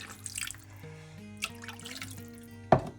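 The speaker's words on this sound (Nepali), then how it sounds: "अब चाहिँ यो पाक्ने गरेर चाहिँ पानी हालिदिने।" Water is poured into a pan of cooking potatoes for Rildok, a Himalayan potato dish, giving a watery pouring and dripping sound over a low hum, with a sharper splash near the end.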